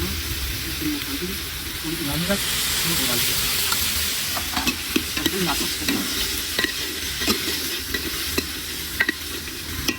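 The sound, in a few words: frying and stirring tempering with cumin and green chillies in oil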